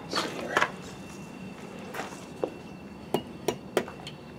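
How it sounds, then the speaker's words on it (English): A hammer whacks a concrete window ledge on a building where the ledges are being cut off, giving several sharp, separate knocks spaced out over a few seconds against a quiet background. "Whack it with a hammer"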